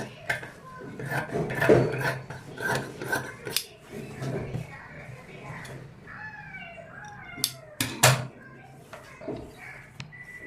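Scissors snipping through blouse fabric at a tailoring table, a string of close, crisp cuts with soft rubbing and handling of the cloth between them, and a few louder snaps near the end.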